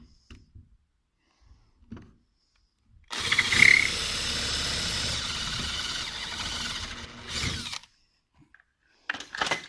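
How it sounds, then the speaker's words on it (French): A power drill bores into a small slab in one loud, continuous burst of roughly five and a half seconds, rising and slightly wavering near the end. Quiet knocks and handling clicks come before it, and a few brief noises follow. "Et je perce la petite dalle qui va bien"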